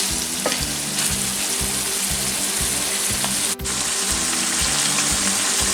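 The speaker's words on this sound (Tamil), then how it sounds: "பாருங்க எங்களோட பொரியல் ஆல்மோஸ்ட் ரெடி ஆகிடுது." Chicken fry sizzles steadily in a pan, a close, continuous hiss with a low rhythmic churning pulse beneath it and one sharp clack partway through.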